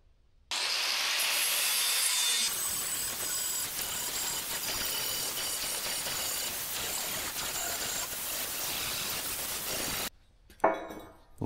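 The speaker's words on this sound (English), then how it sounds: "I got all the weld ground off." An angle grinder takes old weld off metal before a MIG weld repair. It gives one sustained, harsh, loud grind lasting about ten seconds, then cuts off and leaves a short clatter.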